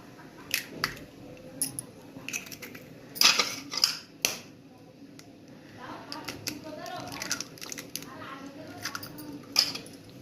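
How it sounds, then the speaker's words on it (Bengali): Two eggs mixed with chili powder are beaten in a bowl, giving irregular close clinks and wet squishy strokes, with louder knocks in bursts and quieter stirring between. "এটা ভালো করে ফেটে নিয়েছি"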